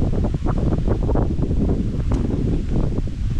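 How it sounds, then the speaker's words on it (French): Wind gusting steadily against the microphone, a low rumbling buffet that fills the whole moment, in a snowy bamboo grove in Japan. "Ouh, le vent est frais."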